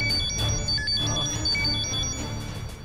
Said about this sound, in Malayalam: ആ ഫോണിങ് എടുത്തേ?